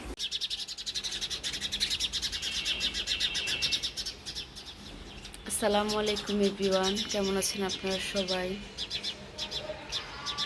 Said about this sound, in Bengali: পাখিগুলো হচ্ছে একদম কিচিরমিচির করছে